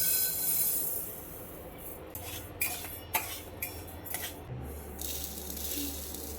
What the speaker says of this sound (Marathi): तर आता लगेचच ह्या कढईमध्ये उडीद डाळ पण भाजून घेऊया.